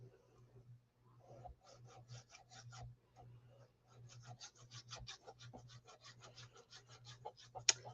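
Glued paper edges of a handmade journal are burnished with quick rhythmic rubbing strokes, close and soft, in short bursts separated by brief pauses, over a faint steady background hum.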